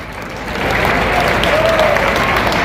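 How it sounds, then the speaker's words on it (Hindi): Loud, sustained applause from a large crowd at a youth conference in Mirdha Stadium, Didwana, greeting Rajasthan Chief Minister Ashok Gehlot; the clapping swells after half a second and stays dense and steady throughout. "अशोक जी गहलोत, जोरदार तालियां हो जाए।"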